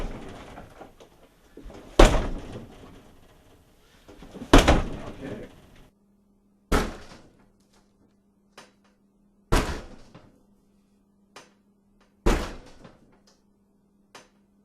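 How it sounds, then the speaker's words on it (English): Heavy kicks thud against a door reinforced with a high security strike plate, five loud impacts spaced a few seconds apart, the first two followed by rattling, with faint knocks between and a low steady hum in the later part. "we tried to kick in the door"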